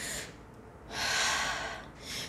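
Shallow chest breathing demonstrated up close: a sharp, gasping inhale followed by a longer breathy exhale and another short intake, with no talking.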